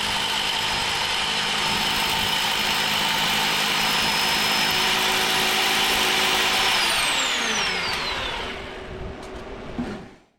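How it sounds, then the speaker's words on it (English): A drill bores a small pilot hole into a concrete floor for drop-in anchors, a steady loud whirring grind held for about eight seconds, then the motor spins down and stops, with no talking. "They require a larger hole than the bolt, so I drill a small pilot first."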